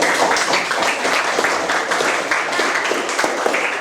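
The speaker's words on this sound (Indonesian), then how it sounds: "beri tepuk tangan juga anak-anak" Children applauding in a classroom at the end of a lesson, a continuous loud patter of many small hands clapping together, steady for several seconds with a few sharper individual claps standing out.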